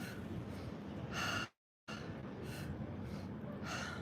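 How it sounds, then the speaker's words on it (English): Slow deep breaths drawn in and pushed out through the mouth during a yoga pranayama session, a long airy rush with a brief silent gap and louder hissing peaks. "Let's breathe in through our mouth and then exhale out our mouth."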